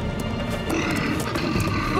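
A bear growls and roars in a French animated children's cartoon, a loud continuous rumbling snarl that stays steady throughout, close and dominant with no speech over it.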